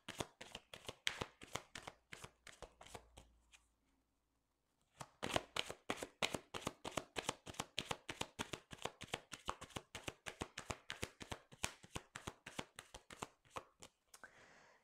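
Lenormand fortune-telling cards are shuffled in quick, steady riffles and snaps, a dense run of sharp papery slaps that pauses briefly near the start of the second third, then resumes at a brisk, even rhythm close to the listener.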